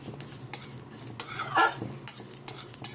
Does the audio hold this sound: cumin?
yes